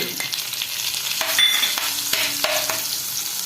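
Garlic, green chili and turmeric frying in oil for a Kerala-style lemon pickle, a steady sizzle with spoon scrapes and stirring knocks throughout, close and alone.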